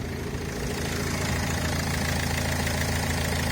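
A Renault Trafic diesel van engine idles steadily with a low, even knocking rumble throughout, close by and without any talking.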